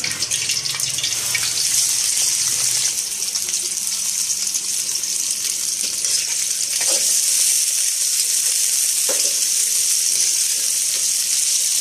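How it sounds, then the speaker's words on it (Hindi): Chopped onions fry in hot ghee left over from frying okra for masala bhindi, giving a loud, continuous bright sizzle with faint occasional stirring clicks throughout and no voices. "जिस घी में मैंने भिंडी को फ्राई किया था उसी घी में मैंने प्याज को डाल दिया। प्याज को भी मैं फ्राई कर लेती हूँ।"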